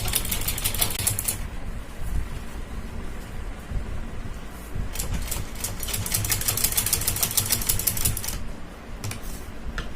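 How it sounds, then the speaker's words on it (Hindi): A sewing machine stitching along the folded edge of a kurti neckline, running in fast rattling bursts with short pauses between runs, close and fairly loud. "पूरे को ऐसे ही बाहर की साइड फोल्ड करेंगे और उसके ऊपर सिलाई लगाते जाएंगे"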